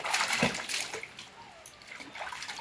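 Water splashes and sloshes while a small child is bathed on a hot day, with close, uneven splashes and trickles that come in bursts.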